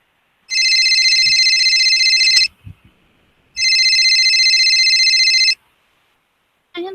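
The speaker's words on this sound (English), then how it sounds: "Suddenly, her phone rings." A phone rings in two long electronic bursts of about two seconds each with a pause between, loud and close, followed by a brief start of a third ring; no talk over it.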